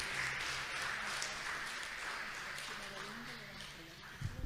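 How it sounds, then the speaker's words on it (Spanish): Church congregation applauding, a soft, distant spread of clapping that fills the space fairly evenly and fades slightly, with some voices mixed in. "Un aplauso, hermanos."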